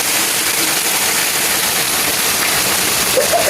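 Heavy rain falls in an unbroken loud wash of noise, close by and constant throughout, with no talking.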